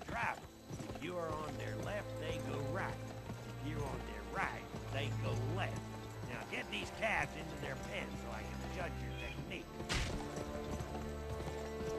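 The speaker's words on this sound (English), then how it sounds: "pick a horse and mount it" Horse hooves clip-clop steadily while herding cattle on horseback in the video game Gun, with occasional whinnies and mechanical clicks, heard under ongoing talk by a player.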